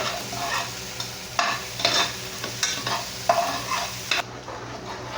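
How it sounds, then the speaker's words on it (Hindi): Onions brown in a hot pan while a utensil stirs them, a steady soft sizzle broken by repeated scraping strokes, close and alone without talk. "प्याज को ब्राउन करना है।"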